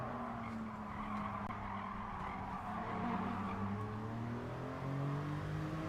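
A race car in Gran Turismo Sport brakes hard into a corner, steady engine drone under continuous tire skid and squeal, loud and close for the whole stretch.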